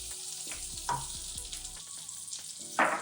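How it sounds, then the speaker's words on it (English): Butter melting and sizzling in a pan for a chili butter sauce, a low steady crackle with occasional spoon scrapes and taps and one louder burst near the end, no voices. "So she basically adds butter in a pan"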